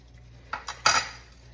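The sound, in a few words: stirring hot honey in a pot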